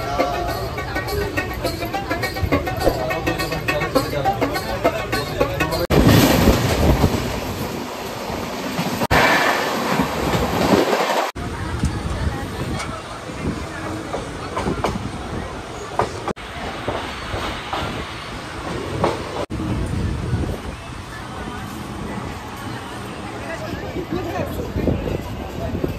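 A passenger train on the Kolkata to Tarapith route runs on rails while entering Bardhaman station, a loud steady rumble with rhythmic clatter, wheel squeal and brief hiss, with people talking nearby.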